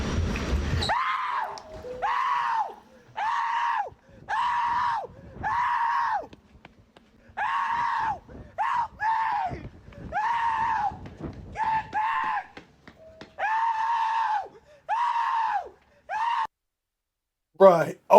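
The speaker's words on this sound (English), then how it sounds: "That scream was outrageous." A person screams again and again over a hat, loud, prolonged, strained yells in repeated bursts separated by short gasping pauses, close to the microphone.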